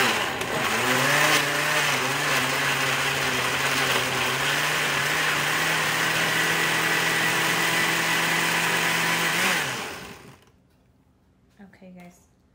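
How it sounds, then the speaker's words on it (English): A blender whirs loud and close, blending ingredients with potato cooking water in a steady, high-pitched motor drone that holds for nearly ten seconds, then winds down into quiet with a few faint knocks. "so let's go ahead and blend this up first and then we'll add the rest of our ingredients"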